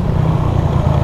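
A Suzuki Satria FU motorcycle with its stock exhaust runs steadily, a loud continuous low engine drone heard up close while riding, with no speech.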